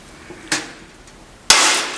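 Two sharp metallic snaps from rivet pliers setting rivets while repairing a Lotus Elise diffuser and undertray, each crisp click followed by a short ringing tail, about a second apart, close and alone.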